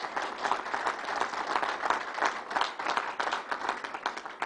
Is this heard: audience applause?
yes